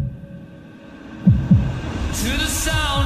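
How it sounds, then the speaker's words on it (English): Pounding heartbeat sound effect in a September 11 tribute, a few heavy low thumps in slow pairs that start soft and grow louder, rising under a swelling musical backdrop. "To the sound of a heartbeat pounding away."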